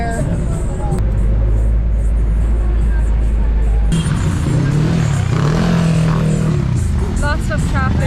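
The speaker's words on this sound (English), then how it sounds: "Lots of traffic here." Busy street traffic in the Philippines, with steady engine rumble from cars, motorcycles and buses rolling close by, a vehicle pulling away in a low drone, and people talking throughout.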